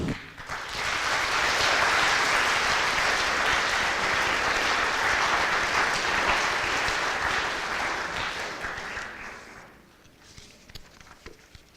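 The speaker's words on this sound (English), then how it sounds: "Let's give our veterans a round of applause." School assembly audience giving sustained, loud applause for veterans, a dense wash of clapping that holds for about nine seconds before tapering off into scattered claps.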